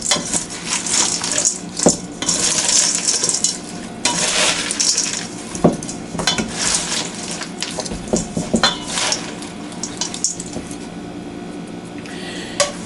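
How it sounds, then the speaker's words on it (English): Mandarin orange and rice noodle salad being tossed in a bowl, with steady scraping, clinking and wet stirring sounds close up, coming in irregular bursts and pauses without any talk. "Then we'll go ahead and mix that up."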